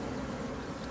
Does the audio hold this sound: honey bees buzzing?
yes